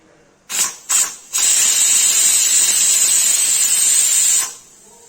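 Two short hissing puffs, then a long, loud, steady steam whistle from a pressure cooker cooking mutton liver, cutting off abruptly, heard close with no speech.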